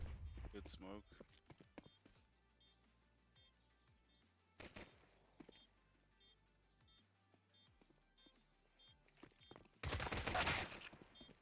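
Rapid gunfire from a competitive Counter-Strike match crackles in short bursts with scattered single shots and footsteps, while a commentator talks over the action.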